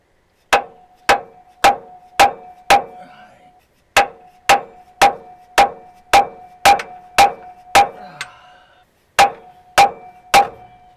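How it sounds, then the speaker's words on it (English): A dead blow hammer strikes a 1 3/16 socket to drive a bearing out of a Cummins 855 accessory drive. Crisp metallic blows come in quick runs of five, nine and three, each with a short ringing tone. "I'm going to try my dead blow here first."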